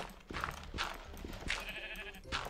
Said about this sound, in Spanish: Ah, es con la oveja.